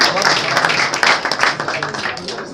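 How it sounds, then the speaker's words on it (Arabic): Applause and scattered clapping from an audience for students at a graduation or awards event, steady and fairly close, with a voice talking over it throughout. "تشجيع يا حضرات"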